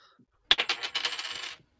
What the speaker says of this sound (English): That is the sound of a 50p going clunk